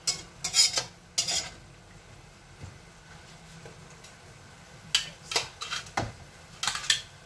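Rice cakes are stirred in a pan with soy sauce and pepper, giving short bursts of scraping and sizzling separated by quieter gaps, close and fairly loud, with no talking.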